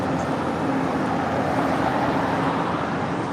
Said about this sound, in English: there's that city sweeper truck